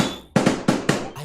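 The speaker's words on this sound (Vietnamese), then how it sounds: "bên tôi bắn pháo bông." Fireworks set off nearby, four or five sharp loud cracks in quick uneven succession, each bursting out over a fading hiss.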